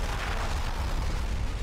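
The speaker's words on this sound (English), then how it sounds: "Is this a railgun?" Heavy, rumbling blasts of a railgun firing in Halo 2, a dense, continuous low roar with explosive bursts filling the whole short stretch, loud and close with no voices.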